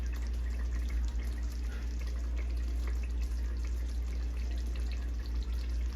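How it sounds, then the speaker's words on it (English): A pot of pasta water boils on the stove, a continuous bubbling and gurgling with small popping drips over a low steady hum, close and moderately loud, with no voices. "as you can see, it's boiling, it's bubbling"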